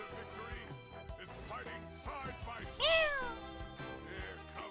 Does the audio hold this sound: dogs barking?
no